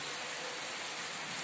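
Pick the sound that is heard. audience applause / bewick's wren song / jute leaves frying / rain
rain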